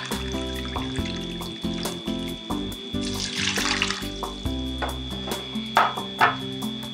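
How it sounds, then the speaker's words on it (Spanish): Tap water runs into a measuring cup already holding a third of white vinegar, a steady close pour over faint background music. "Voy a completar la taza con agua"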